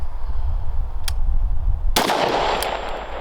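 A rifle with an adjustable gas block fires a single loud, punchy shot of PPU M193 ammunition after a quiet stretch, with a faint click beforehand and a ringing decay afterward.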